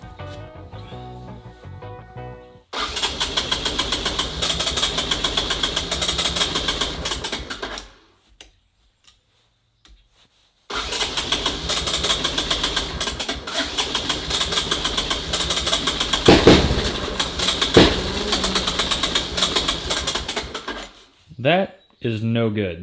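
A 1984 Honda ATC Big Red three-wheeler cranks over and over without firing, in two long, loud, steady cranking bursts split by a few seconds of silence.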